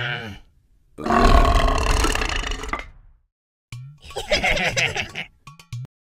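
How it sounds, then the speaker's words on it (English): Two loud, drawn-out belches close to the microphone, the first long and rumbling, the second more broken, separated by a short silence, with a brief voiced sound at the end. "Belch."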